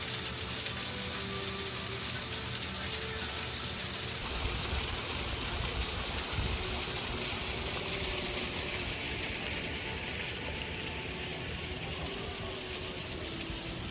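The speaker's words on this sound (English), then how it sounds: "And there's a beautiful little waterfall." A small waterfall at the base camp of an aerial tramway in Palm Springs keeps up a steady broadband rush of falling water, continuous and moderately close, with no voices.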